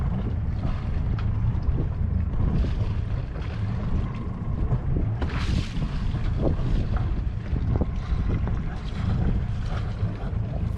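A sailboat motors into the anchorage at Little Scorpion, its low engine drone blending with steady wind buffeting the microphone and water rushing along the hull, continuous and fairly loud, with no voices.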